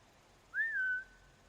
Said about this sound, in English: But when I hit and distract him using a whistle.